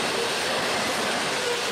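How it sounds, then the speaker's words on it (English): A train rolls past on a railroad in Michigan or Ohio, a loud continuous roar of wheels and cars close by, steady for the whole stretch with no gaps and no talk. "this would actually be the last train of 2023 that I would actually capture full video"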